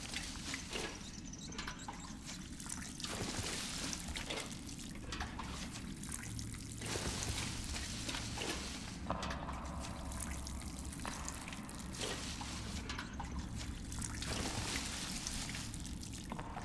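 Crops being watered in the video game Len's Island, a soft continuous trickle and splash of pouring water running steadily and quietly with small bursts of droplets throughout.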